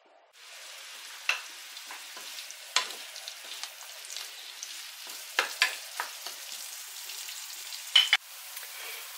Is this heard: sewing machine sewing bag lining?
no